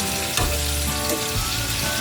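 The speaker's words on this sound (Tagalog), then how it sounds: "nilagyan ko ng asin ng isda at saka ko pinirito" Salted galunggong fish frying in oil in a pan, a loud, close, steady sizzle with crackling pops and a couple of brief knocks from the pan.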